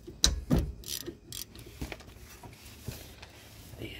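Wrench and ratchet work loosening the lower rear brake caliper bolt on a 2015 Dodge Charger, with a few sharp metallic clicks and knocks early, then quieter scattered mechanical taps.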